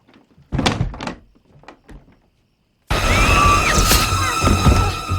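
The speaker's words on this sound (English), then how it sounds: "But before you go, Vicky, could you be a doll and close the closet door?" A closet door thuds shut in a Halloween (2018) horror scene, a loud wooden knock followed by a few softer bumps, then a sudden burst of dense, roaring noise and music.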